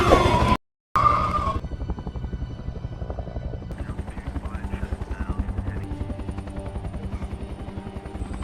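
A helicopter in a zombie film arrives with a steady, loud rhythmic rotor thump that builds and holds over a low engine drone, following a brief burst of noise and a short gap.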